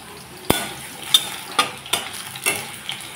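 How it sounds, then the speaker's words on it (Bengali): Quartered potato pieces fry in oil until reddish for mocha dhokar dalna, a low sizzle under a series of sharp spatula clicks and scrapes that land about every half second. "আলুটাকে এখন লাল লাল করে ভেজে নিব।"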